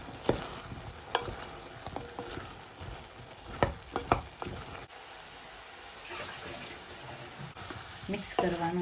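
Vegetable curry with turmeric, coriander-cumin powder, red chilli and salt being stirred in a pan: scraping spoon strokes and light sizzling, with a few sharp knocks against the pan and faint background noise.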